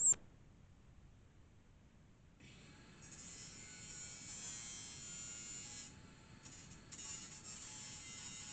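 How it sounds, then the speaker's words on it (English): An angle grinder works on a Mustang's fender well, a faint, steady high buzz starting after a brief click and a pause and running on with small dips, with no talk. "So let's hit it with the old angle grinder."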